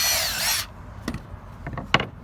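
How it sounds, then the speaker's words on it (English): Power drill pre-drilling holes through a Fiberon Brio Rhythm composite deck rail, a loud high whir for about half a second, then a few faint knocks and taps follow. "We're gonna pre-drill."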